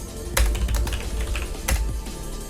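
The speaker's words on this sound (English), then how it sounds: "Let's type that in." Fingers type on a computer keyboard entering C code on a 1988 VM/IS system, with a quick run of soft close key clicks over a steady background hum and two sharper, heavier strikes.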